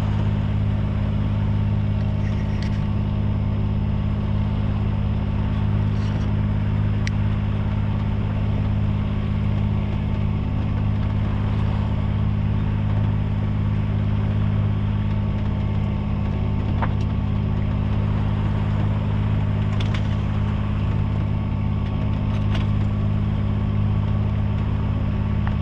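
A sailboat's inboard engine drives it along at about four knots in calm, windless conditions, giving a steady, loud low rumble and drone that holds unbroken throughout, with faint higher clicks over the top.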